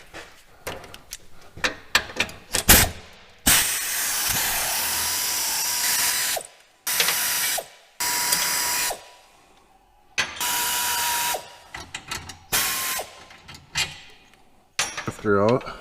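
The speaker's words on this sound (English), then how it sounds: "Take these last few bolts out of the cross member here." A ratchet backs out transmission cross member bolts on a Cummins-swapped Ford Excursion, close rapid clicking bursts separated by pauses and clanks of metal, with some talk between.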